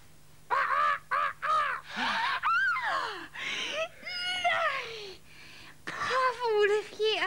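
A raven caws and croaks in a series of loud, close, harsh calls with rising and falling tones, broken by short pauses, with a steady low hum underneath.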